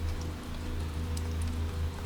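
Rain falls steadily through the night, a close, even patter and hiss over a low, constant hum, with occasional sharper drops ticking on a surface.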